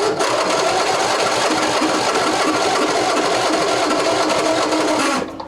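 A Briggs & Stratton V-twin engine is cranked with throttle and choke, a dense, fast mechanical churning that holds steady, then cuts off abruptly near the end.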